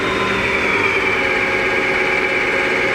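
A Clausing Metosa gap bed engine lathe runs at a steady 600 RPM with an even mechanical hum and a constant higher whine, unbroken and close.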